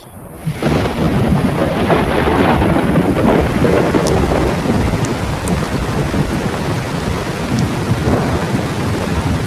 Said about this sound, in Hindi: दूर आसमान में बिजली कड़की